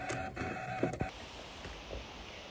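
A Brother ScanNCut SDX1200 cutting machine runs on its own, giving faint, uneven motor whirs and a few short clicks and knocks early on before settling into a quiet hum.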